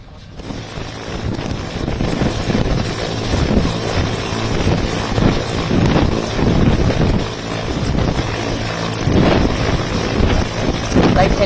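A helicopter flies overhead during an operation carrying bodies in Chhattisgarh, its rotor drone a steady, rumbling roar mixed with wind buffeting across the microphone.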